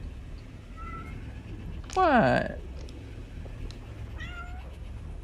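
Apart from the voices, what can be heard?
domestic cat meowing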